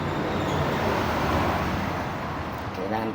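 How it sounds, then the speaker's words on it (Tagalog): Steady road traffic passes a roadside motorcycle repair shop where rubber dampers are being made, a continuous dense roar of vehicles that swells and eases slightly throughout without a break. "maraming dumadaan na sasakyan"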